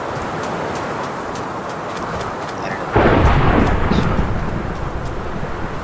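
A thunderstorm spawned in Minecraft delivers a sudden loud crack of thunder that rumbles and fades over steady rain.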